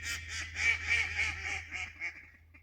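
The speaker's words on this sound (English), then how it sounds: "Don't think I've ever seen so many ducks together before." A flock of ducks quacking on a rural walk, a rapid overlapping series of nasal quacks close by, fairly faint, fading toward the end.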